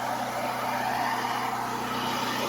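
A portable generator engine runs steadily and close by in an even, unbroken drone with no change in pitch and no voices.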